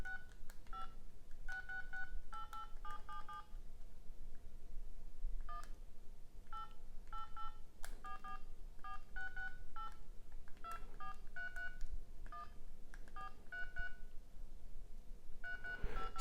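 Panasonic GD90 mobile phone keypad giving off short electronic beeps in irregular bursts of two to five tones, with pauses in between, steady and close over a low background hum.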